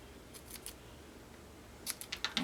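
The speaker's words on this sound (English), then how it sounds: "Now I'm going to take my scissors and just kind of flag the one end." Scissors snip a paper strip for a handmade card, giving a few quick, crisp cuts early on and then a faster cluster of snips near the end, close and fairly quiet.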